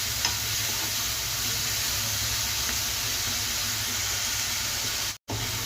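Fenugreek leaves fry in a pan with a steady, close sizzle and crackle, continuing without talk until a brief break near the end.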